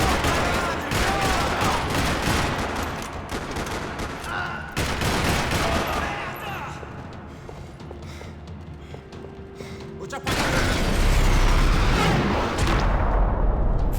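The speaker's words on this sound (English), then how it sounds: "Another parking lot rattling with gunfire." Dense, rapid gunfire in the video game Max Payne 3 rattles continuously and loudly across a parking lot, with overlapping bursts and a heavier barrage near the end.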